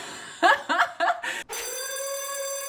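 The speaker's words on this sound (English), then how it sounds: "maybe that is the reason the lunk alarm is going off for me" A Planet Fitness lunk alarm: a few short, rising electronic bursts, then one sustained, loud, tonal siren-like wail.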